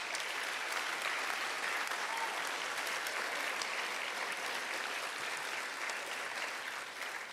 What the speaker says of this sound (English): Let's give these students well-deserved applause for all of their hard work throughout high school.